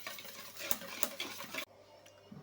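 Eggs being beaten in a bowl until pale, with a steady scraping, ticking stir of a whisk or utensil that runs for about a second and a half, then stops and leaves near silence.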